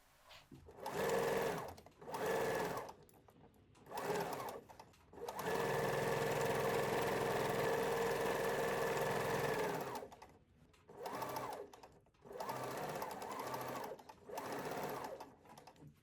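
A sewing machine stitches a skirt seam near a kick pleat in bursts, several short runs and one long steady whir of about five seconds, loud and close with no talk.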